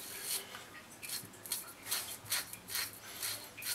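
Merkur razor blade shaving through a beard, close rhythmic rasping strokes, about eight short scrapes in a steady pattern.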